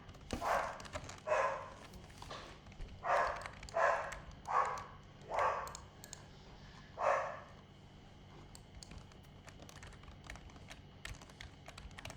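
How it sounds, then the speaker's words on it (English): A pet dog barks repeatedly, about eight muffled woofs in an uneven rhythm, slightly distant, then quiet with faint tapping afterward. "Sorry about my dog barking."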